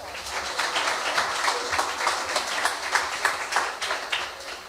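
An audience at a French company award ceremony applauds a prize winner, a dense, steady patter of many hands that holds at an even level throughout.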